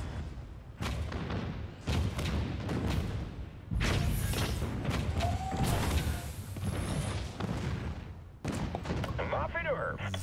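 Repeated heavy booming shots and thuds of cannon fire in the video game Spore, loud and dense, with game effects and a whistling tone layered over a busy battle din.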